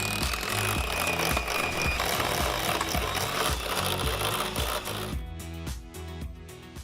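An electric mixer whirs steadily as it beats cream with icing sugar and vanilla toward stiff peaks, a loud close motor drone with a rhythmic pulsing that thins out near the end.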